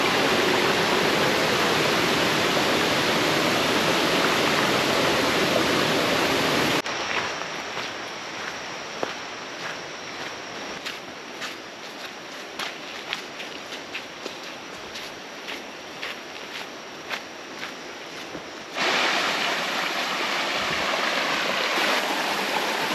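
Shallow jungle river near Lata Makau, Kuala Kubu Bharu, flowing over rocks in a steady rushing wash, loud at first, then quieter with scattered splashes and footsteps, before the full rush returns.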